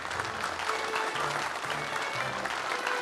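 Audience applause at a televised magic show, a steady, dense wash of many hands clapping throughout, with faint music or voices low underneath.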